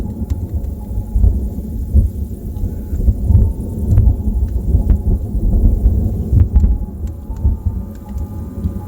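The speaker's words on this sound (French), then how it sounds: "le flash a illuminé ma chambre et ce bruit! Coup de foudre positif!" A close positive lightning strike during a 2024 thunderstorm sets off loud, deep, rolling thunder that rumbles continuously and heavily from start to finish, with no voices.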